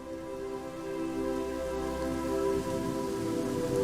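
Steady rain pours down outside, a constant hiss of drops on surfaces filling the background with no voices.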